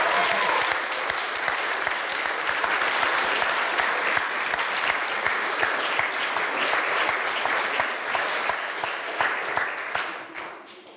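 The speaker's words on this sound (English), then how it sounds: "I believe we need a round of applause to make welcome our beautiful bride." Wedding guests applauding the bride at an evening reception: dense, sustained clapping from a full room, steady and loud for about ten seconds before tapering off at the end.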